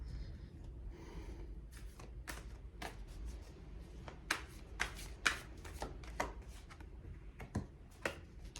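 Tarot cards are shuffled by hand in a quiet room, soft papery riffles and sharp snapping taps at irregular intervals, close and fairly faint.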